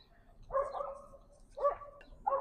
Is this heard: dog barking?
yes